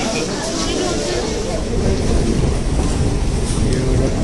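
Delhi Metro train running on the Pink Line, a steady dense rumble of wheels and carriage noise throughout, fairly loud and close, with a slight swell in the second half and faint voices mixed in.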